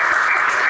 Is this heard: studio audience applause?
yes